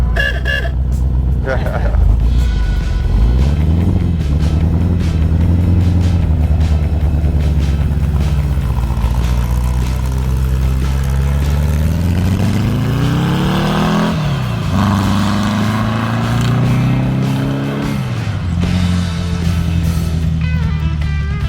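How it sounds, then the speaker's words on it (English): Engine of a 1970 Volkswagen dune buggy idling low before reaching operating temperature, a loud, steady air-cooled rumble that dips and rises in pitch, with voices talking over it. "you'll notice that the idle's low until it gets to operating temperature"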